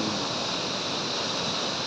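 A heavy release of water from the Huai Saneng reservoir in Surin province rushes in a loud, steady, unbroken roar, close by and with no voices.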